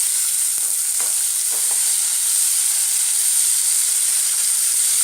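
Shallots, onions, ginger and garlic fry in hot oil in a pan, making a loud, steady hiss with a few crackles near the start.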